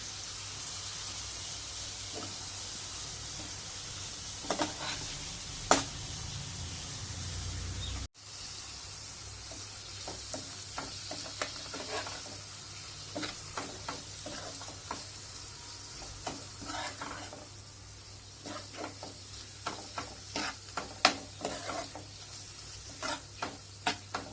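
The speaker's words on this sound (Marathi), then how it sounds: "त्याच्यात आपण टाकूया आता मस्त स्वच्छ धुतलेली अशी कोलंबी आणि करून घेऊया फ्राय" Washed prawns frying in an onion masala in a pan, a steady close sizzle punctuated by frequent sharp scrapes and taps of a spoon stirring, with no speech.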